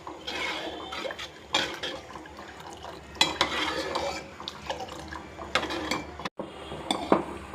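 A spoon stirs thick ragi (finger millet) porridge, soddi java, as it cooks in a pot. Close, repeated swishing and scraping strokes come in bursts, with brief pauses between them and no talk.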